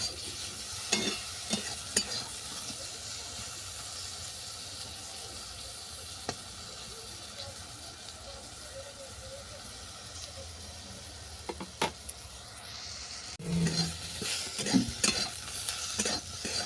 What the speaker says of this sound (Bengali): বেগুনটাকে নেড়ে ছেড়ে ভালো করে ভেজে নিচ্ছি